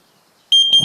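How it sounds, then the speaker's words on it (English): A carbon monoxide alarm sounds a sudden loud, shrill electronic beep that starts abruptly after a moment of silence, close and piercing. "if ever that nasty gas is around, your alarm will make a noise a bit like this."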